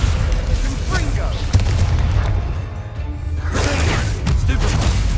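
Booming explosions from the Confringo blasting spell in Hogwarts Legacy, a loud sustained barrage of crashing blasts with a brief lull midway, layered under game voices.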